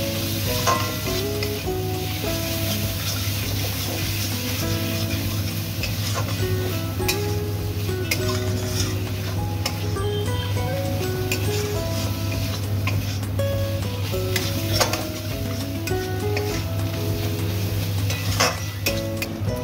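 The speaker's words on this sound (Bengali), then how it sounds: "আমি এর মধ্যে ভেজে রাখা কাঁকড়াগুলো আবার মশলাটার মধ্যে দিয়ে দিচ্ছি।" Fried crabs are stirred back into a spice masala with ghee in a pan, sizzling steadily and loudly throughout, with occasional clinks of a utensil against the pot.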